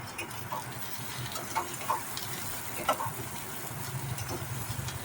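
Onion and potato frying together in a pan, a steady, moderate sizzle with a few soft stirring clacks and scrapes scattered through, heard close with no speech.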